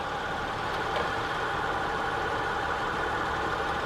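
A 2006 Honda Ridgeline engine idles with a steady, even drone that holds at one level the whole time, close by and free of any speech.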